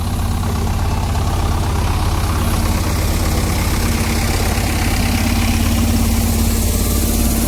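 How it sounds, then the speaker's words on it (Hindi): A tractor engine runs steadily at a bridge construction site, a loud, close, continuous low rumble with a constant drone and no change in pace. "आवाज़ नहीं आएगी इतनी क्योंकि ट्रैक्टर की आवाज़ आ रही है ना"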